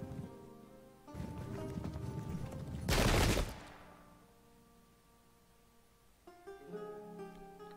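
A volley of musket fire from an English Civil War battle in the Pike and Shot strategy game, a dense crackle of shots building to one loud burst, then fading into quieter scattered reports.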